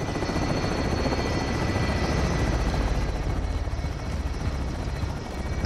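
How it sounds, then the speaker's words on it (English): In-game helicopter from Call of Duty: Modern Warfare, a loud, close, continuous rotor chop with a droning engine hum, holding steady for several seconds with no one talking. "here's a helicopter."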